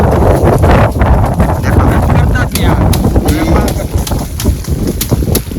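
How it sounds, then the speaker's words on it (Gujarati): Strong gusty wind buffets the microphone in an open farm field during sesame threshing, a loud continuous rumbling roar with sharp gust bursts, while people talk in the background. "પવન યાર બહુ છે"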